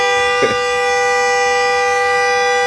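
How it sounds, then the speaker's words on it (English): A vehicle horn blares in one long, steady, loud, harmonic-rich tone that holds throughout, with a brief thump near the start. "when did he start honking his horn?"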